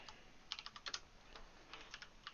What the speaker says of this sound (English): It's been so long since I typed on this big ass keyboard